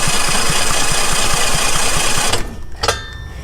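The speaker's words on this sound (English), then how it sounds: "So we can go ahead and try to spin the engine and we should get spark." A small engine being cranked over to test for spark gives a steady, rapid mechanical chugging that runs continuously for over two seconds and then cuts off. A few faint clicks follow, with no voices.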